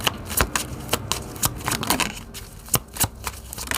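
Tarot cards are shuffled by hand close up, giving a run of crisp, irregular riffling snaps and soft slaps with no talking.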